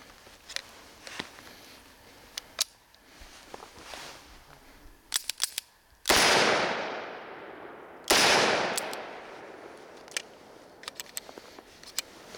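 A Smith & Wesson 586 L-Comp revolver fires two loud, close shots a couple of seconds apart, each with a long ringing decay, among scattered small clicks and handling noises.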